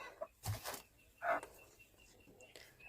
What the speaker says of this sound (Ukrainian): От вам і курки, квочки австралорп.